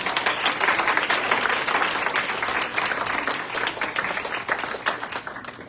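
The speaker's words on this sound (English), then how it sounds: "And let's give another round of applause." A room at a climate justice event breaks into sustained applause from many hands. The clapping stays loud and even throughout, tapering only slightly near the end.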